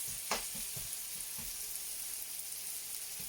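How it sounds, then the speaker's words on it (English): Steady, close sizzling hiss of duck and pork frying in a hot pan, with soft popping crackles scattered throughout. "so we can just let that sizzle away together"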